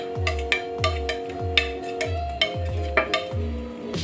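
Sausages frying in oil in a pan for a Sosis Bandari harbour sausage recipe, with regular sharp clinks and scrapes of a utensil against the pan over a steady sizzle and a faint hum.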